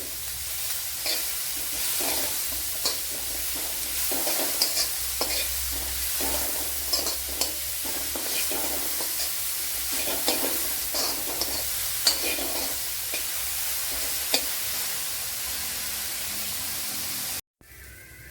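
Onions or masala sautéing with salt in a pan for a soya chunks dish, a steady soft sizzle with repeated light scrapes of stirring, close by and unbroken until a brief cut near the end.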